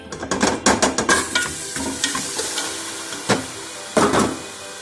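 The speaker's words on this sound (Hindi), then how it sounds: "अब मैं मटन डालने लगी हूँ इसमें।" Pieces of mutton drop into a hot pot with sizzling and stirring clatter, a series of close, sharp clunks over a steady hiss.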